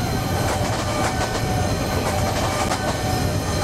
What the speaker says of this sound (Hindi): भाई ट्रैक साउंड सुन रहे हो, ओरिजिनल जो लोकल ट्रेन वाली ट्रैक साउंड होती है ना वो डाली हुई है